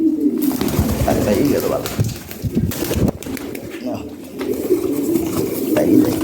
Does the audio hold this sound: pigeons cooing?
yes